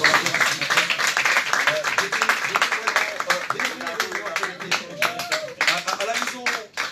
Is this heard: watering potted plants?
no